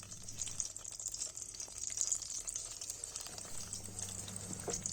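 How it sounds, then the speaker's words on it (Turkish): Pepper paste sizzles in hot oil in a pot, a steady hissing crackle that stays continuous and fairly close throughout. "güzel bir şekilde önce salçamızı kavuruyoruz"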